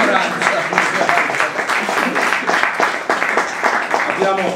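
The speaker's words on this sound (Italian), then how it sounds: "vi chiedo un applauso ovviamente sulla fiducia" An audience at a cultural event in Abruzzo claps while regional officials are introduced. The applause is dense and steady, close and fairly loud, and holds for several seconds.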